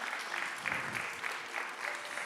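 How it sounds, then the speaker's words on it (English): An audience applauds at an evening talk, a steady, even wash of many hands clapping together, moderately loud and sustained throughout. "Let's have a round of applause for Allison and those beautiful postcards."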